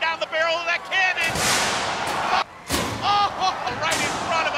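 Combat robot cannon blasts at a fighting-robot arena event, two sharp loud bursts with crowd and excited commentator speech over and around them.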